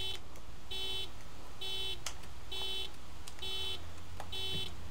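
A car alarm sounds in the Taxi Life video game, repeating regular electronic beeping bursts about once a second, loud and steady with faint background noise.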